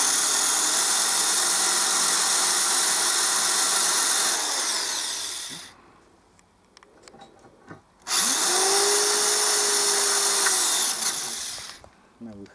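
A power drill whines steadily for several seconds drilling a hole in metal, stops, then starts again for another long run, loud and close, with faint tool noises during the pause.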